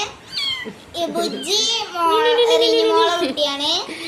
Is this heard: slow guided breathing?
no